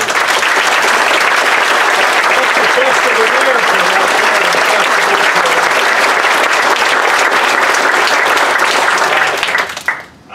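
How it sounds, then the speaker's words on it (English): A loud, dense round of applause from the audience at the Carolina Nonwovens plant grand opening in Maiden, North Carolina, honoring police officers, sustained evenly for about ten seconds before cutting off abruptly. "we need to give another round of applause for the men and women in blue"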